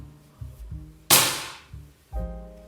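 An air rifle shot rings out as one sharp, loud crack with a bright burst and quick decay, set between softer mechanical thumps of handling before and after.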